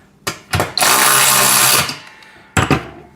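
A power tool tightens a washer and nut on a home gym pec deck and rear delt machine: two short bursts, then a loud sustained whine lasting about a second, and one more brief burst at the end.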